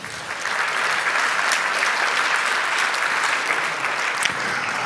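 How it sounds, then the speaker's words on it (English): Sustained audience applause at a water summit conference, a dense, steady wash of many hands clapping that holds at a fairly loud level for about five seconds, with no voices over it. "Give him another round of applause"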